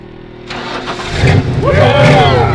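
A 2017 vehicle on a road trip through desert ghost towns cranks for about a second and then catches, settling into a rising engine rumble with a brief rev while people talk over it nearby.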